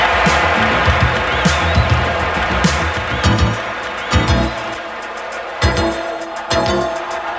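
Basketball arena crowd at a 1988 NBA game cheering and applauding loudly and continuously after a traveling call against the Orlando Magic, with bursts of louder clapping swelling over the roar.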